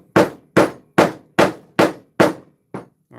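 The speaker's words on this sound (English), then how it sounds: "We're actually going to hammer the heck out of this just to show you." A Klein Tools hammer strikes hard seven times at a steady pace, each a loud, sharp close bang with a short ringing decay, the last blows lighter and quicker.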